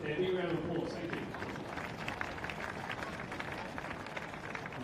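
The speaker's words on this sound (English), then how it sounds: "big round of applause" Applause from a crowd at a State of Origin touch football event, sustained and fairly steady, with a speaking voice briefly overlapping at the start.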